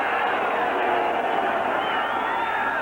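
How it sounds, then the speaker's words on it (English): A noisy football stadium crowd at a 1986 Denver Broncos at New York Jets game roars in a steady, dense wash of sound with no break throughout. "Noisy crowd."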